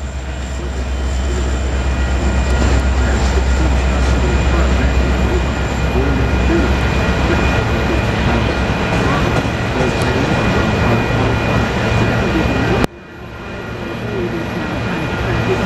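A heavy Union Pacific freight sand train rumbles past close by with a loud, continuous roar and clatter of cars, ending abruptly near the end.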